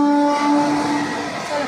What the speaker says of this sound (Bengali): এলাম এই মাত্র ট্রেনটা বেরিয়ে গেল